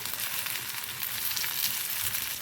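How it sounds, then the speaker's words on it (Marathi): Beetroot leaf vadi shallow frying in hot oil on lowered gas, a steady close hiss of sizzling with a soft crackle and no voices. "हे आपण आता शॅलो फ्राय करून घेऊया."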